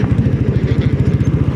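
A motorcycle engine running close by, throbbing in a fast, even pulse with a low rumbling firing note and light mechanical clatter, steady and loud throughout the short stretch with no talk over it.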